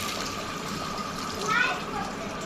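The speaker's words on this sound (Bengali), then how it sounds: "এখন পরিমাণ মতো পানি দিয়ে দিব।" Water poured into a pan of frying masoor lentils in a home kitchen: a steady, soft gushing fill, rising briefly midway, under a faint background hum.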